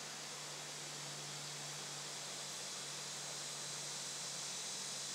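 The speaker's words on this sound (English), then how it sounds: "There's a little bit of the water down there." Water flowing far down in a sinkhole at Devil's Millhopper State Park, a steady broadband rush with a faint hum, quiet and distant, continuous throughout with no voices.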